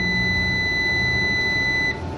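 Steady, continuous electronic buzzer tone from an Inverex 1.2KW solar inverter while its enter button is held, loud and unbroken before dropping off near the end.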